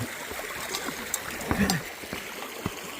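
Water trickles and gurgles along a small creek near a trail shelter, a steady outdoor wash with a few brief splashes and knocks close by.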